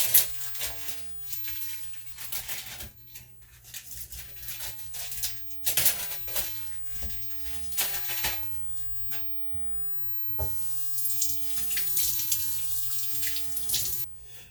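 Tap water runs and splashes over smallmouth bass fillets being rinsed in a kitchen sink, a steady close hiss with uneven bursts and brief shifts in flow, no voices.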